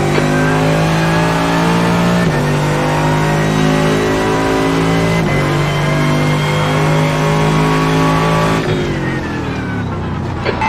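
A Mercedes-AMG GT3 race car at full throttle at Laguna Seca, its loud engine note climbing steadily and dropping briefly at each of several quick gear changes.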